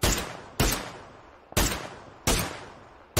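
Heavy gunfire in PUBG, four loud sharp shots or short bursts spaced about a second apart, each with a ringing decay, close and alone without talk.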